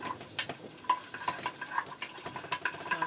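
Onions being stirred in a pan of hot canola oil, with a steady sizzle broken by repeated scraping and clinking strokes of the utensil against the pan, close and moderately loud.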